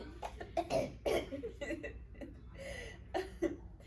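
A series of small, raspy coughs and throaty hacks in quick bursts, close and fairly quiet, with pauses between fits.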